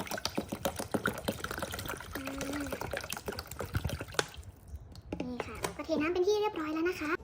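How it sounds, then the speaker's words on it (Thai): Water is poured from high up into a large cup for a children's floating-pin science experiment, a trickling, splashing stream that runs on as a voice speaks over the latter part. "เราจะทำการเทน้ำก่อนนะคะให้น้ำสูงๆเลยเด็กๆจะได้เห็นชัดๆนะคะ"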